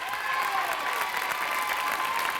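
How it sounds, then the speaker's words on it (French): A studio audience at a French television show applauds, dense continuous clapping filling the room at steady volume, with no voices over it. "je vous demande d'applaudir"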